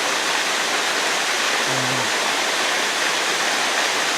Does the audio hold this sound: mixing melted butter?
no